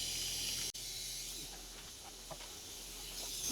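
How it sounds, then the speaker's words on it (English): A Smittybilt air compressor blowing air: a continuous loud, close hiss with one brief cutout early on, then a steady rush. "I really want to see if this Smittybilt can blow air like an air compressor."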